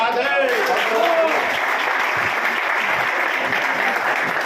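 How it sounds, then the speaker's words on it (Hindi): Audience applause at a gathering honoring a beauty and jewelry business leader, loud dense clapping that fills the clip steadily from start to end, with a voice briefly heard at the very beginning. "एक बार जोरदार ताली मैडम के लिए।"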